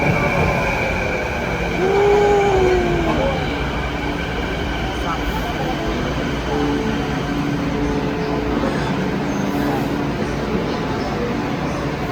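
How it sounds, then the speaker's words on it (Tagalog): A train rumbles steadily arriving at Lonsdale Quay station in British Columbia, with a brief rising squeal, people chatting faintly in the background throughout. "Yan, naghihintay sila ng train. Yun! Parating na."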